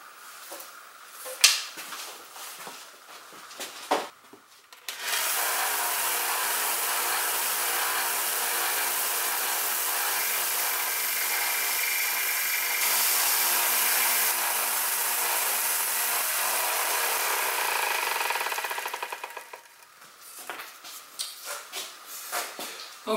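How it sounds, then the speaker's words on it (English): A power sander works on a golf club handle being reshaped into a trekking pole, blending it into a wood knob: a steady, loud abrasive hiss that runs for about fourteen seconds between quieter handling noises. "slightly sand the handle around the top here to kind of blend it in to the wood knob"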